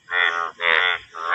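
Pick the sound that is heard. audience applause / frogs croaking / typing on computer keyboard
frogs croaking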